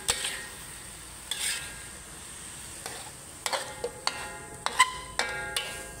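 Tomatoes being stir-fried in a pan, giving a soft, steady sizzle broken by sharp, scattered clinks and scrapes of a utensil against the pan, close and fairly quiet, with no talking.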